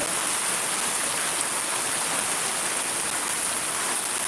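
Heavy rain falls steadily in Shariatpur, Bangladesh, a loud, even wash of downpour hiss that never lets up, with no one talking.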